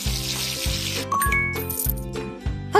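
A brief rush of spraying water rinses shampoo off a baby animal in a kids' animal-care video game, followed by chiming pickup tones over a steady, looping cartoon music bed.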